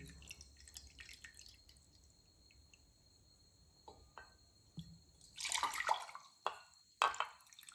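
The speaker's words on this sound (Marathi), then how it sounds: "मी आता ह्या वाटीने दोन वाटी पाणी घेणार आहे" Water splashes into a pot in short bursts after a quiet stretch with faint drips, the pouring loud and close.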